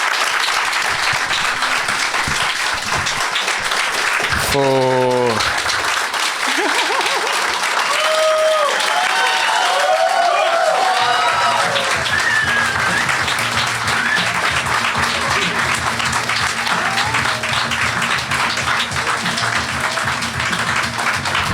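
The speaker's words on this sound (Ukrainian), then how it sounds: "Це стояча овація?" An audience gives a standing ovation at a solo concert, a dense, continuous wash of applause filling the whole stretch, with a brief musical note and a few faint voices mixed in.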